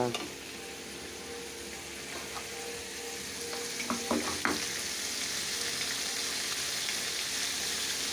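Vegetables sizzle and sauté in a pan, with a steady close frying hiss and a few clinks of stirring partway through.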